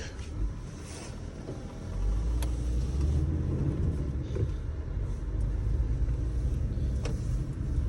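Volkswagen Crafter van with a swapped 2.7 engine driving on a short test drive, a steady low road rumble and engine drone from inside the cab that swells after the first couple of seconds and holds constant.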